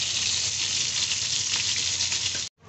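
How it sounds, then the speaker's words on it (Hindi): Minced meat seekh kebabs fry in a pan with a steady, close, dense sizzle that runs unbroken for about two and a half seconds and then cuts off abruptly. No one speaks over it. "इनको मैं दरमियान में करके इसको फ्राई करूंगी और इसी तरह मैं सारे कबाब फ्राई कर लूंगी"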